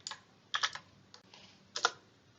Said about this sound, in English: Type ipconfig